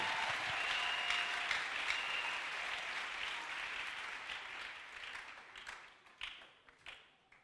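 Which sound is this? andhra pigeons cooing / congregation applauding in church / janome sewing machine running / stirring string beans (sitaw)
congregation applauding in church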